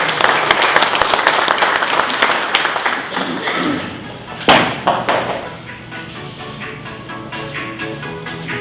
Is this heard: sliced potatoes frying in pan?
no